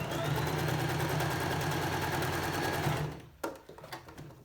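A sewing machine runs a steady, fast whir while reverse stitching a pleated face covering, then stops near the end, leaving a few light clicks and handling noises.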